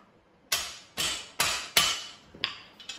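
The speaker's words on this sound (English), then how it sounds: "You're going to need to use a hammer to tap them down in there all the way." A hammer taps boltless steel shelving beam connectors down into their slots, four sharp close strikes in steady rhythm followed by two or three lighter taps, with no talking.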